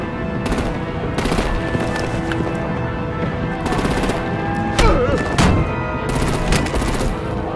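Rapid bursts of automatic gunfire rattle in Batman: The Telltale Series, loud and dense, mixed with game sounds, a couple of heavier impacts and brief shouting.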